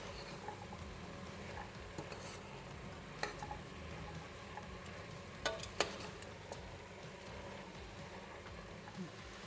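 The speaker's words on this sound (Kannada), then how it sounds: "ಮಸಾಲ ಹಾಕ್ತಾಯಿದ್ದೀನಿ," Vegetable pulao with masala being stirred in a frying pan, a steady soft sizzle with scraping and light clatter of the spoon running throughout, close up, with no talking.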